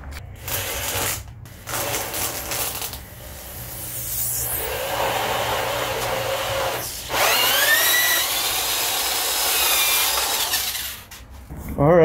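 A 3-inch hole saw grinds through the back of a cracked car dashboard, rough rasping and whirring in uneven bursts with brief pauses between, loud and close with no talking.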